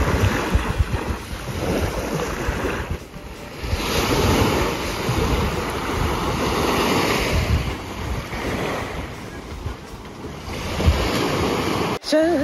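Waves wash onto a beach at sunrise in Turks and Caicos, a continuous roaring surf with swelling and receding surges, mixed with wind buffeting the microphone.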